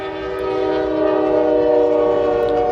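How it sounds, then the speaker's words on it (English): Long freight train led by five locomotives rolling past close by, its horn blaring a sustained, loud chord that swells slightly and holds throughout. "Holy crap, 5 locomotives. This is gonna be a long ass train."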